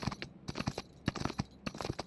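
Rapid clip-clop of a horse galloping in GTA 5, hoofbeats arriving in quick repeating bursts of three or four strikes, close and fairly loud with no voices over them.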